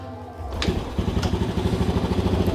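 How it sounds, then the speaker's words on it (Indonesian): A motorcycle engine catches after a brief start-up burst and then settles into a fast, rhythmic idle that stays close and fairly loud. "Tak nyalain motornya aja ya."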